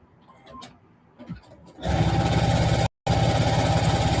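After a moment of soft handling noises, a sewing machine stitching a quarter-inch seam on a table runner starts a loud, fast, steady whir close by, cuts out for a split second, then runs on.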